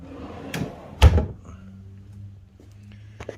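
A wooden drawer in a workshop miter saw station is opened and pushed shut, with a soft slide and then a loud close-up thunk, followed by a faint rattle and quiet room tone.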